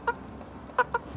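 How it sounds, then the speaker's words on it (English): Backyard chickens being herded back into their coop, giving a few short, close clucks spaced apart over a quiet background. "I've had the chickens out for some time and I have to step out now, so I'm gonna go put them back into the coop"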